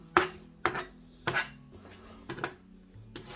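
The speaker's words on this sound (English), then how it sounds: "When you cut the onions, it doesn't matter" Knife chopping onions on a cutting board, four or five sharp, separate strokes spaced unevenly and heard up close, with faint kitchen background between them.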